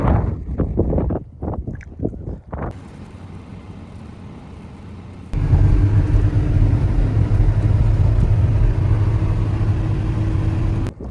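A car pulls into a small car park off a main road in the cold Welsh mountains. Gusting wind buffets the microphone before a low, steady engine drone rises and holds close by.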